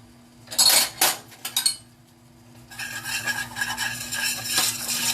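A utensil clinks sharply against a pot a few times, then settles into a soft, steady stirring and scraping as a roux cooks for poppy seed chicken.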